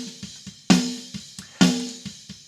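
Metal snare drum run through group compression, struck in a steady pattern with two heavy accented hits among lighter strokes, each hit snappy with a sustained compressed ring, close and alone.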